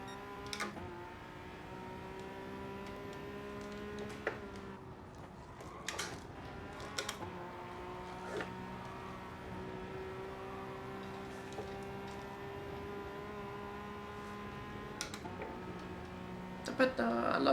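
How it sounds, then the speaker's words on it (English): A race car engine in the video game GT Sport drones steadily at high revs, its tone dipping and climbing with each gear change over a continuous racing background. "I love the sound of this engine"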